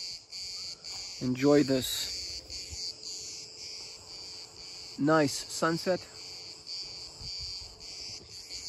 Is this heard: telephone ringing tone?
no